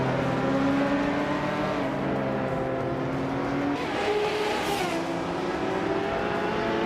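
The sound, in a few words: race cars in a video game race, Radical SR3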